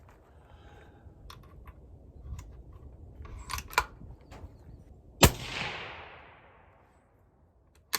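A Tikka T3X Lite rifle in 22-250 fires 55-grain V-Max loads outdoors. One sharp report rings out, then a long fading tail. A couple of softer distant pops come earlier, and another sharp crack lands at the very end.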